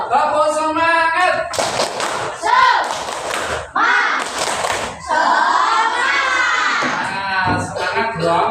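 Fifth-grade schoolchildren in a classroom perform the rhythmic 'tepuk semangat' clap chant, loud group voices shouting in unison over thumping, patterned claps that stop and restart across the stretch.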